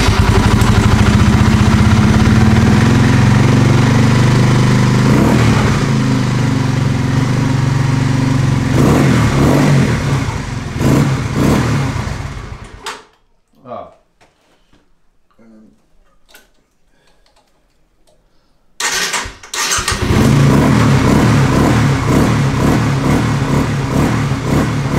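Honda CBR125R motorcycle engine running close by, loud idle with a ticking beat and revs, then it cuts out for several seconds of near quiet before the engine roars back to life.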